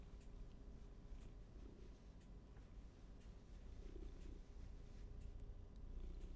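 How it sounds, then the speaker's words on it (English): Cat purring softly in a steady low rumble throughout, faint and close, with low background hum and no talk. "He's purring, but not very loud."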